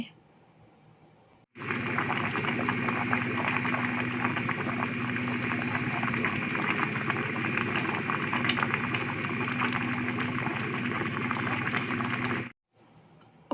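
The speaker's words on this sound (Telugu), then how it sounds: "ఇక్కడ రైస్ అయితే స్టవ్ మీద పెట్టాను రైస్ అయితే ఉడుగుతుంది" Rice bubbling in a pot on a stove, a steady rushing simmer that starts abruptly, holds for about eleven seconds, then cuts off, close and alone.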